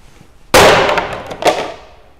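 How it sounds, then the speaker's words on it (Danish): A crowbar strikes a corrugated PVC roofing sheet with a sharp, loud crack that rings out and fades, followed by a second softer rattle of the plastic panel, close up with no voices. "Og det er altså kobenet, og jeg vil sige, jeg slog godt til."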